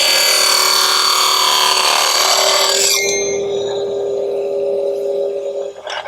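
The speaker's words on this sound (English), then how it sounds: "that vibration that you're hearing, that is the miter gauge right here." A mini table saw making a test cut, its high whining blade loud and steady with the miter gauge buzzing and vibrating, until the cut ends abruptly and a quieter hum with a few clunks remains.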